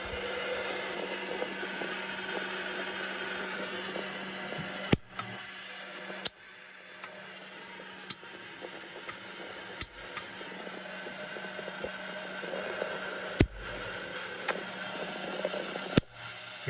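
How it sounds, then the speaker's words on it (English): An electric fuel pump for a car's nitrous system runs with the engine off, a steady faint whine and hum broken by sharp clicks every second or two. "I'm just running the fuel here. So armed, fuel pump on, always."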